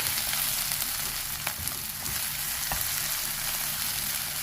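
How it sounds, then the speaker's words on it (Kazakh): Onions fry in a pan for samsa filling, giving a close, constant sizzle with a few light clicks from stirring, alone without speech. "Жуамыз жұмсарғанша пісіріп аламыз."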